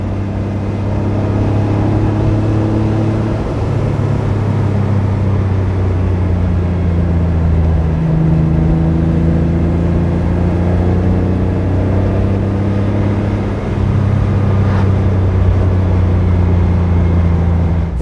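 A 1989 Porsche 911 Speedster driven on the road: its engine drones loudly from inside the car, rising in pitch as it accelerates, dropping briefly at gear changes, then climbing again, with no talk.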